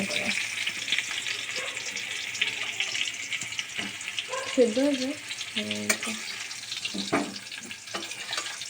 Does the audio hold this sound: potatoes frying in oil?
yes